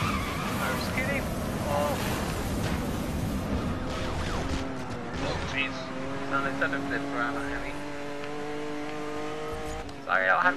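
A car spins out in the Need for Speed Most Wanted racing game, with close, loud tire squeal and engine noise sliding through the skid over a steady bed of game sound.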